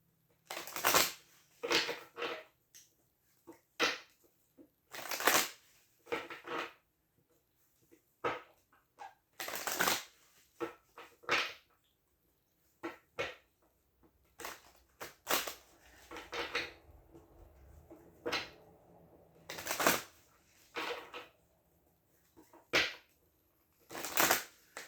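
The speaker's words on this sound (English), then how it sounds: "I'm going to shuffle these in and we're going to get a 7-card spread" Tarot cards shuffle in repeated short riffling bursts separated by pauses, quiet and close, with no talk.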